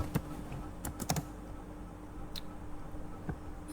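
Keys clatter on a computer keyboard while an SQL update statement is typed, a few sharp separated clicks and short bursts with pauses between, close and fairly clear over low background hiss.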